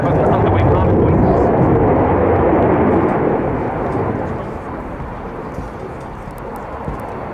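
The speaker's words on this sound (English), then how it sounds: "here's the Super Hornet's high angle of attack pass, down to about 180 kilometers an hour" A US Navy Boeing F/A-18F Super Hornet makes a slow, high angle of attack display pass at RIAT 2016, its jet engines giving a loud, steady roar that eases slightly as it continues.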